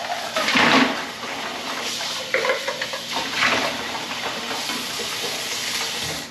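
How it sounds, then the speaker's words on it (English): Water rushes and hisses into a bin of ice water in bursts, close and fairly loud, with occasional knocks of the container between surges. "fill that bin with some ice water."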